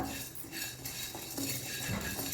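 Coriander and cumin seeds roasting in a pan, heard as a faint dry rustle with light metallic clinks and scrapes of a spoon against the pan.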